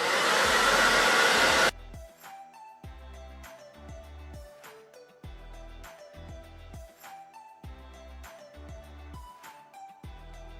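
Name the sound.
hair dryer blow drying hair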